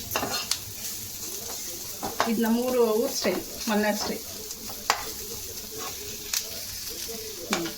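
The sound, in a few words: sizzling tempering for fish curry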